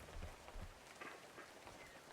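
Steady, soft rain hiss from the video game WebFishing, a faint continuous wash with a few light patters, heard alone without talk.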